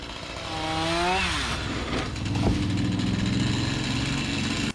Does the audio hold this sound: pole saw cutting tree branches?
yes